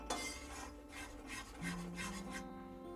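Gram flour roasts in ghee in a pan while a spoon stirs it, giving soft repeated scraping and rubbing strokes in an uneven rhythm, close and fairly quiet, with no talking.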